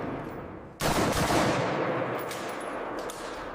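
An M240 machine gun locked down for a function test fires 7.62 mm NATO rounds at about 650 per minute, a sudden loud sustained burst of rapid gunfire that starts abruptly and rattles on for several seconds, close and dense.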